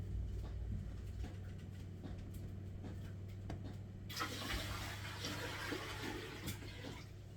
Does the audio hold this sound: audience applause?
no